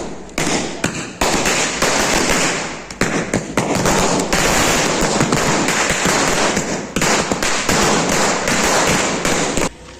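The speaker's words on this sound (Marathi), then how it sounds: "इथे फटाके वाजत आहेत बघा समोर तुम्हाला दिसत असेल फटाके पेटलेले" A dense, rapid barrage of Diwali firecrackers crackling and popping loudly and nearly continuously, with brief gaps between volleys.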